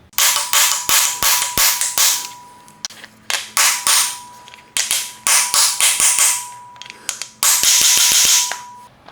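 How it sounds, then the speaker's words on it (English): A hammer taps freeze plugs into an engine block in rapid runs of sharp, loud metallic strikes, grouped in bursts with brief pauses between. "I think I'll tap a few freeze plugs in."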